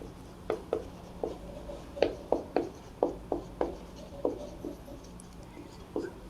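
Chalk or a pen writes out a maths function, giving a quick string of short, sharp taps and scratches that come in irregular bursts, close and fairly quiet, with no talking.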